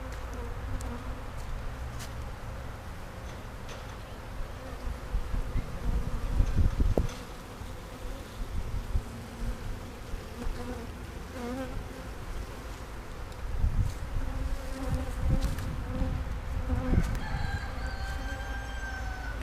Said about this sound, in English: This is a stupid strong hive